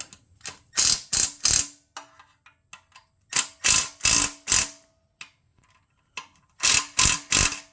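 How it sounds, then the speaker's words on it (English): Hand ratchet tightening bolts under the oil pan bracket of a 2.4L Kia Sportage: three bursts of rapid clicking, each made of a few quick pulls separated by short pauses, loud and close with near silence between. "You're going to tighten all these bolts underneath the bracket here."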